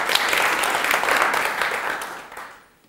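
An audience applauds the affirmative team at a debate on hate speech. Dense clapping holds steady for about two seconds, then fades away to near silence.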